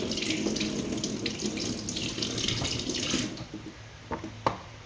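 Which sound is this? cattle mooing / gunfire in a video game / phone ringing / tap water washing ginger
tap water washing ginger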